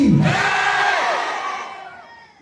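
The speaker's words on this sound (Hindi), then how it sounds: "जयकारा लगाएंगे जोर से, बोलो भारत माता की" A large crowd shouts a drawn-out chant of the Hindi slogan Bharat Mata ki Jai in unison, loud and close at first, then trailing off over about two seconds.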